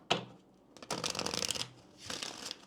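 Kipper fortune-telling cards being shuffled close by, two quick riffling bursts of flapping card edges separated by a brief pause.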